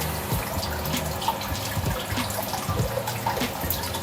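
Water steadily rushing and trickling as a submerged pump floods a tray of a home hydroponic vertical farm, a continuous close gurgling stream with small splashes.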